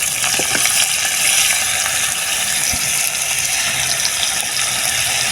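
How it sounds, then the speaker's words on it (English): Soup mix is stirred into a bubbling cooking pot, a loud, dense, continuous hiss and sizzle with faint stirring knocks mixed in, steady from start to finish. "Give it a little stir."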